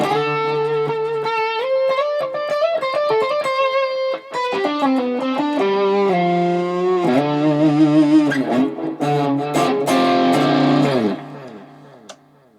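A distorted electric guitar plays a melodic lead line with echoing repeats and reverb tails that ring on, loud and alone, fading out at the end.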